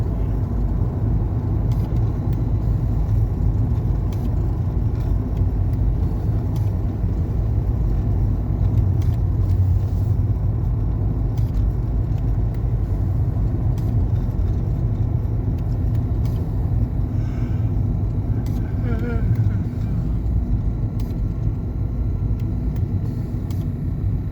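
A Nissan Frontier pickup truck drives along a road, its steady engine rumble and road noise continuous and close throughout, with no talk over it.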